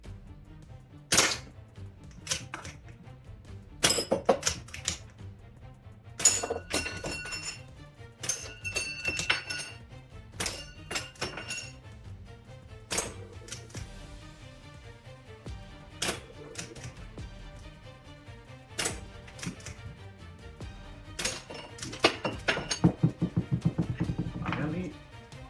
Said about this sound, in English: I'm just going to shoot away until I feel that the CO2 is running low.